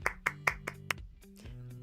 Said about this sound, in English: I'll clap with my hands